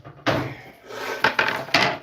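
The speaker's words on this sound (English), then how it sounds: "Let's do a little bit of chisel." A wood chisel cuts into a guitar body during a Telecaster build, giving a burst of close scraping followed by several short sharp rasps and taps.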